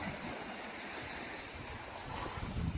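Continuous rushing wash of surf close by, mixed with wind buffeting the microphone, swelling slightly toward the end.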